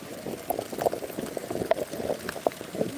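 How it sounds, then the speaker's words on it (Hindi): Heavy rain pours down in a dense, steady hiss with close crackling patter and small splashes throughout, loud and continuous with no voices. "ये देख सकते हो, बहुत तगड़ा बारिश होता है। ये बारिश हो रही है"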